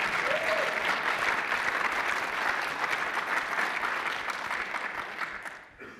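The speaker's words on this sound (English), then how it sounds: "I was expecting some applause here" Conference audience applauding at a RustConf 2018 talk, a steady, dense wash of clapping that holds for several seconds, then tapers off near the end.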